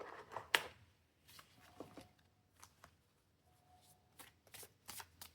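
Sun Tzu Art of War advice cards being shuffled by hand, a series of short papery riffles and flicks with quiet pauses between, close and fairly soft.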